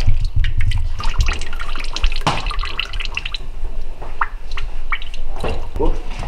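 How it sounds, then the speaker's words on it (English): Excess water drips and trickles as sheep cheese for oscypek is pinched by hand: irregular splashy drops and squeezes, close by, with people talking over them. "this is the pinching process in order to remove any excess water"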